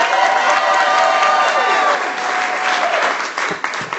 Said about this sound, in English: Clap like 50 million.